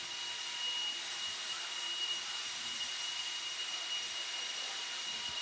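A blower runs at an RC raceway during a 40-plus four-wheel-drive modified race, giving a steady, loud, broadband rushing whoosh with a high whine, continuous throughout with no talk.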